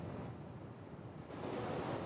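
Strong winter storm wind roars across a beach at the southern end of the Chesapeake, with rough surf washing in as a steady hiss and rumble, faint and continuous with no voices.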